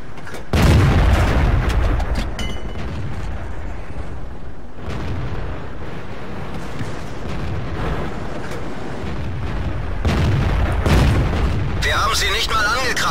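Heavy booms of tank cannon fire and explosions in World of Tanks, a loud blast at the start and another near the end over a constant rumble of battle and engine noise.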